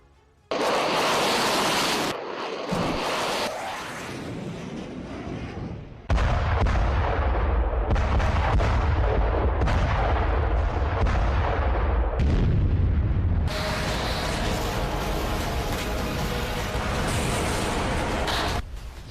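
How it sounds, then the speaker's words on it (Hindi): Heavy booming blasts and sustained roaring rumbles from explosions and artillery fire near the Zaporizhzhia nuclear plant come in loud bursts with abrupt cuts between them, dense and powerful like distant shelling. "ज़ैपोरिज़िया प्लांट के पास धमाके।"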